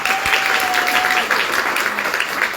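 A hall audience applauding at a Georgian event, loud dense clapping that stays steady for the whole stretch, with a brief tone and faint voices underneath.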